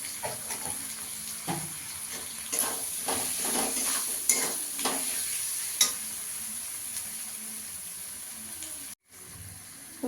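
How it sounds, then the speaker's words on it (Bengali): Spice paste with tomatoes and salt fries in a pan for chicken lal jhol, a close, steady sizzle broken by scraping stirs and occasional clinks, with a brief gap near the end. "ভালো করে কষিয়ে নেবো মশলাটাকে"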